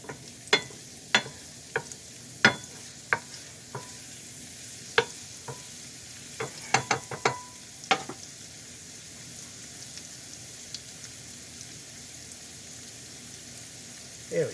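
A pan heats with oil before shrimp scampi goes in, giving scattered sharp pops and crackles over a quiet, faint sizzle, some bursts close together and others spaced apart.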